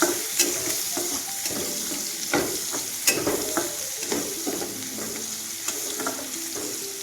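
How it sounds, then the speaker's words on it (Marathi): Onion and garlic frying in a pan for a Maharashtrian pavta amti, giving a steady close sizzle broken by repeated scraping stirs, with no voices. "आता कांदा भाजला आहे आणि लसूण पण भाजला आहे"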